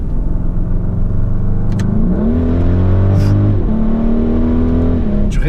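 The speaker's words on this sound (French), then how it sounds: "il y a des petites détonations à l'échappement quand même" Audi RS Q8 (2020) engine revving on a mountain road in Tenerife, with sustained engine tones that rise and shift through gear changes and a few small exhaust pops, loud and close, without speech.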